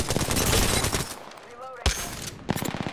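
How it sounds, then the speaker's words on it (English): Rapid automatic gunfire in the video game Apex Legends, loud and close, with a dense burst of shots, a brief lull and then more bursts of fire, with no one talking. "Getting shot at."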